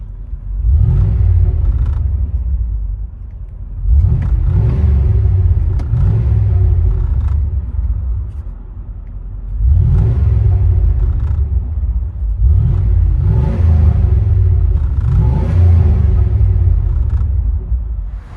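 A 1997 Chevy Silverado 1500 5.7L V8's true dual Flowmaster Super 50 exhaust revs hard in repeated bursts, deep rumbling throaty roars swelling and falling about every three seconds, loud and close.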